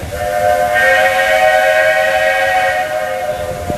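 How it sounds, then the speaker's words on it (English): A train whistle sounds one long, steady chord-like blast, loud and close, holding for several seconds over a faint background hiss, at Magic Kingdom near Adventureland. "I hear the whistle."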